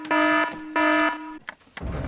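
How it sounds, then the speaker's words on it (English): Two long, loud electronic beeps of an intruder alarm sound in a steady on-off pattern, followed by a brief shuffle of noise. "The intruder alarm."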